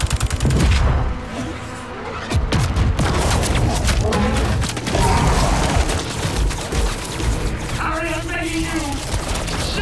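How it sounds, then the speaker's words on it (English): Bursts of rapid gunfire and booms crackle loudly and continuously in the video game Marvel's Spider-Man 2, with shouting voices mixed in among the shots. "Charge and avoid gunfire."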